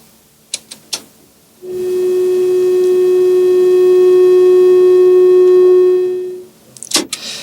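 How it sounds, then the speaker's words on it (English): A pure, steady synthesizer sine wave tone holds for about four seconds, smooth and dull, bracketed by a few soft clicks and knocks before and after. "That's called a sine wave."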